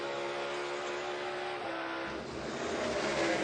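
In-car audio from a NASCAR race car at the 2022 Coca-Cola 600, a loud continuous engine roar close up, with the pitch dropping and shifting around a gear change partway through.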